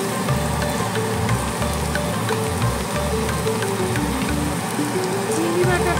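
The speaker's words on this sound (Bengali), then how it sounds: "এবারে আমি চিংড়ি বাটাটা দিয়ে দেব।" Spiced masala with prawn paste sizzling in a pan for a prawn and parwal curry, a continuous close crackle and hiss like light rain, steady throughout.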